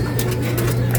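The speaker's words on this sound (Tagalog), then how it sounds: "Ayan, mga stock bird natin." Stock pigeons in a loft coo in a steady low, throaty drone that continues throughout, with no talking.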